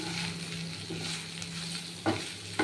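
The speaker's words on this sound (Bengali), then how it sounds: "পেঁয়াজটা ভাজা ভাজা হয়ে গেছে।" Onion frying in a pan with grated coconut while being stirred, a steady close sizzle with a few scraping stir strokes near the end and no talk.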